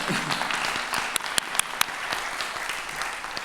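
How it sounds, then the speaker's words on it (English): Audience applause at a talk with Tara Houska, steady dense clapping from a crowd with a few sharper individual claps standing out, no voices over it. "Can we give another round of applause for these guys?"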